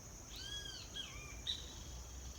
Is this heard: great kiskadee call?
yes